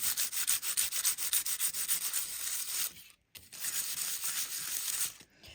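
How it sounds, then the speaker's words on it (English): Sandpaper rubs across the top of an aluminum can in quick rhythmic scratchy strokes, close and fairly loud, pausing briefly partway before more steady rasping. "I'm just going to take some sandpaper, doesn't matter what kind."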